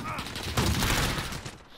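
A shotgun fires in a video game, a couple of heavy blasts close together amid battle noise, with a voice talking over part of it.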